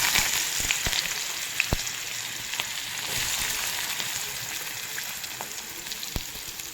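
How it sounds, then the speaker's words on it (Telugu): Onions hit hot oil in a pan and fry with a busy, close sizzling hiss, dotted with sharp pops and crackles, no one speaking. "ఆయిల్ వేడయ్యాక ముందుగా మనం కట్ చేసి పెట్టుకున్న ఆనియన్స్,"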